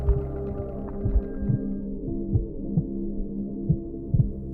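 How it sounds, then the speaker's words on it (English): A wooden robot's simulated heartbeat sounds as a steady run of dull, low thumps, about eight beats over a constant hum, with no voices. "My heartbeat varies."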